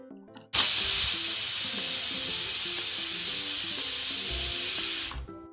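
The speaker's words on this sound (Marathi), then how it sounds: "तीन शिट्ट्या घेणार आहे कुकरच्या" A pressure cooker loud and steady with a hissing steam release while pav bhaji vegetables cook inside, a sustained rush lasting several seconds before cutting off abruptly, with faint clinks and music underneath.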